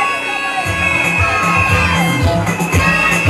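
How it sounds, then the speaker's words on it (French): A school crowd at an end-of-year closing ceremony erupts for a student, loud and close, with clapping mixed with children's shouts, whoops and cheering throughout. "Est-ce qu'on peut applaudir très fort?"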